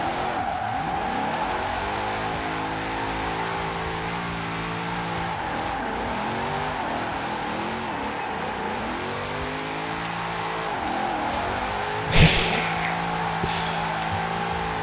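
A car drifts around a roundabout in Forza Horizon 4 with the Formula Drift pack, its engine revving and rising in pitch while the tires squeal through long slides. A sharp impact-like burst comes near the end, and no one speaks.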